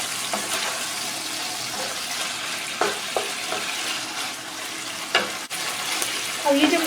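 Ginger and garlic paste sizzling in hot oil in a pan, a steady broadband crackle with occasional stirring scrapes and clinks, fairly close and continuous.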